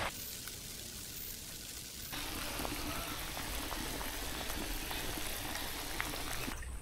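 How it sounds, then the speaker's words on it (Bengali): Water boils in a cooking pot in an outdoor village kitchen where figs are about to be added for a beef dish: a steady, dense bubbling roar that grows louder and fuller after the first couple of seconds. "পানি গরম হয়ে গেছে, এবার এই ডুমুরগুলো দিয়ে দেবো।"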